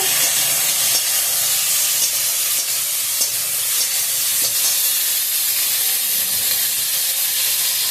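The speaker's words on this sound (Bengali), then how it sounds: "দেখো ফুলকপি ভাজা হয়ে গেছে" Cauliflower fries in a pan in a loud, continuous sizzling hiss, close up, with faint clicks of stirring throughout and no talk.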